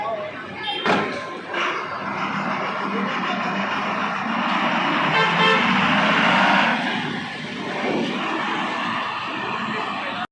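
An MSRTC state transport bus arrives at a crowded Maharashtra bus stand in the rain, with an engine drone and horn toots over general crowd noise. A public-address voice announces departures throughout.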